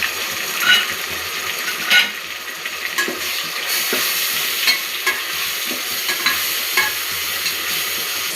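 Onions sautéing for tomato rice, a steady close sizzle with scraping, clattering stirs of a spoon in the pan at irregular intervals throughout, no voices.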